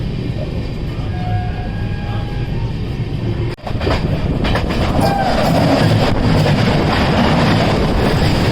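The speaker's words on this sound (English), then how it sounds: "Just there's another train coming." A train rumbles and roars past close by in Gujarat, a steady loud rush with rhythmic rattling of wagons and wind buffeting throughout.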